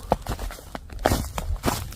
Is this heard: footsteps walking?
yes